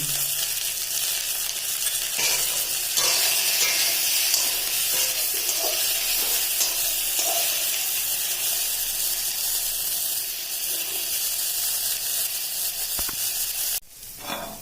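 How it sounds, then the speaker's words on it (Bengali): Tempering spluttering in hot mustard oil in a pan for a okra dish, a loud continuous sizzle and crackle with stirring scrapes throughout, a brief cut near the end. "সর্ষের তেল দিয়ে ফাটিয়ে নিচ্ছি।"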